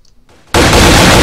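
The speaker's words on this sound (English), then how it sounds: "Mini gun test" A minigun firing in the Happy Wheels video game, starting abruptly after a brief near-silence and continuing as a loud, dense, unbroken roar of rapid fire.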